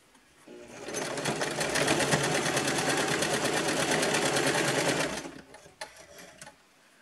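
A sewing machine runs a continuous seam on a dress, a steady loud mechanical whir lasting about five seconds before stopping, followed by a few faint handling sounds.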